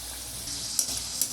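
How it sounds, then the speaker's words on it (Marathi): Samosas fry in hot oil over a low flame, a soft, steady sizzle with two brief pops near the end, with no talking. "गरम तेल झालं की थोडं मंद आचेवर याला तेलात सोडूया"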